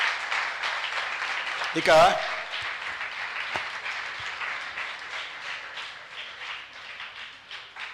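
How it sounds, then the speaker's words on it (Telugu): An audience at a youth conclave lecture claps in sustained, fairly even applause that rolls on for several seconds, with a speaker's voice briefly cutting through. "చప్పట్లు 2 రకాలుగా ఉంటాయన్నమాట"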